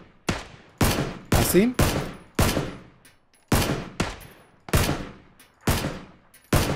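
Sharp single gunshots in PlayerUnknown's Battlegrounds crack out at uneven intervals, about a dozen loud, close reports each with a quick decaying tail, while a player briefly speaks between shots.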